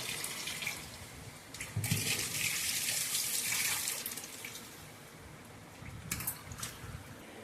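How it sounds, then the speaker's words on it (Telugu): Running water splashes into a sink while raw chicken is rinsed, the flow swelling and easing with occasional clinks and splashes. "కొవ్వు అదంతా శుభ్రంగా కడుక్కోవాలి"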